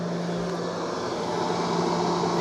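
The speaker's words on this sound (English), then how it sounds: "Then our exhaust fan, which sucks from over here" An exhaust fan runs inside a 2010 Ford F350 truck, producing a steady whooshing drone with a low constant hum, close and unbroken.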